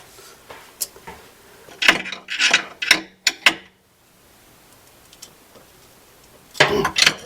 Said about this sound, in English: get a wrench on that, tighten that nut down